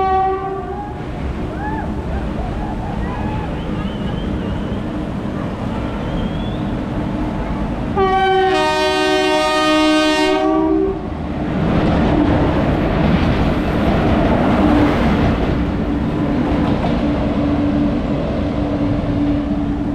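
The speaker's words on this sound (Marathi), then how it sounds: "सो इथनं ट्रेन जाते" A train rumbles through near the tunnels at KP Waterfall on the Mumbai–Pune line beside an old British-era wooden railway bridge, its horn blaring in a long loud blast midway, then heavy wheels and carriages roll past close by.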